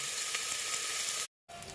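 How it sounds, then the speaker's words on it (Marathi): Rice sautéing in ghee with cumin inside a pressure cooker, a steady bright sizzle and crackle heard close up, broken by a brief moment of silence before the frying resumes. "जिरे टाकल्यावर त्यामध्ये आपण टाकणार आहोत भात, राईस। तो आपण व्यवस्थित परतून घेणार आहोत कुकरमध्ये"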